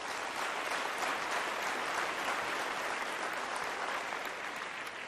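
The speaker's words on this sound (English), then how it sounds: "Let's have a round of applause for them," Audience applause for three competing tech teams on a studio show, a steady dense wash of clapping filling the whole stretch at moderate level with no voices over it.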